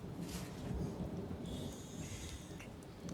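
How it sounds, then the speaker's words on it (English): Thunder rumbles low and steady through a jungle storm, with a wash of rain over a continuous deep roll and some faint higher tones drifting in partway through. "Red lightning crashing above, thunder muffling the sounds of the jungle beyond."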